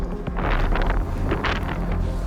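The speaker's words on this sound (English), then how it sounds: "that's a big gust coming" A strong gust of wind blasts across a cold high mountain slope near 13,400 feet, a loud, steady roar buffeting the microphone throughout with no voices.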